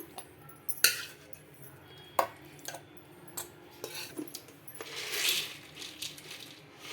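Cooked, cooled tomatoes are spooned into a mixer jar, with a series of sharp metallic clinks and taps of a spoon against the jar spread unevenly, close by, plus a soft scraping rustle near the end.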